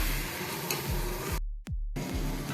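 Egg masala is stirred together with a spiced yogurt mixture in a pan, a steady close sizzle with soft scraping strokes, briefly interrupted by a short gap partway through.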